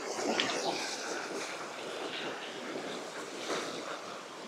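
A small waterfall spills through forest, its broad, steady rushing wash of water filling the scene without pause, fairly loud and close, with no voices over it.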